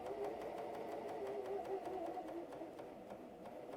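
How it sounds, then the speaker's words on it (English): A sewing machine stitches elastic on a pair of shorts, giving a steady, quiet mechanical whir with faint rhythmic ticking throughout. "I'm not going to sew it all the way shut."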